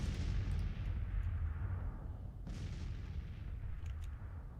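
Artillery cannon fire from Union guns in the video game Grand Tactician: The Civil War, a steady low rumble of distant booming with one sharper report standing out midway, no talk.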